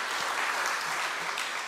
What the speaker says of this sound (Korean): 우리 다 함께 모든 건 묶어서 함께 우리 박수할까요?